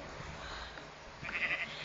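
Sheep bleating in Minecraft during a one block skyblock game, a short synthetic bleat near the end of a quiet stretch with faint background game ambience.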